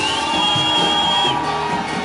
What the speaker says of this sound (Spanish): pueden dar un fuerte grito de júbilo al Señor.